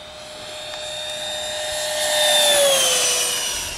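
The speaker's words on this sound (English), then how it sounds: "And now the landing, Captain Blush." A MiG-17 radio-controlled jet with a 90mm electric ducted fan comes in to land, a steady high-pitched whine that swells as it passes closest and then eases away.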